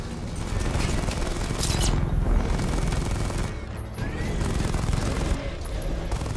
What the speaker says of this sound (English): let's blow the rest of the tanks